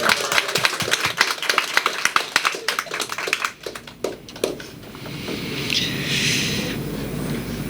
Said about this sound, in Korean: 우리 크게 박수로 한번